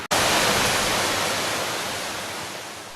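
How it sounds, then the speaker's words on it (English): Kent Falls, cascading waterfalls on Falls Brook, a mountain stream in Connecticut, roars as a loud, steady broadband rush after a sharp click at the start, holding for three seconds with no talk. "today we're here at Kent Falls, some of the most dramatic cascading waterfalls in Connecticut"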